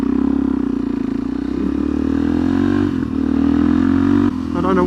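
A Suzuki DRZ440SM supermoto motorcycle rides along country roads, its single-cylinder engine droning loud and close with a steady throbbing note, easing slightly and then revving back up, with wind buffeting the rider and no talking.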